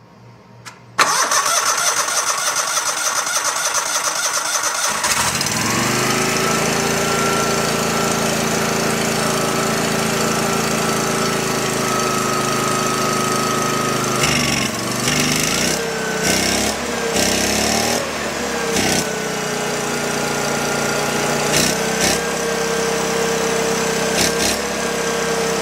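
A Go-For digger's gas engine, an old machine from an estate sale, cranks over and catches after a few seconds, then runs steadily and loudly with some uneven surging partway through.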